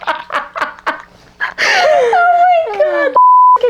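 A sustained electronic censor beep tone sounds after bursts of laughter and giggling, cutting in loudly near the end.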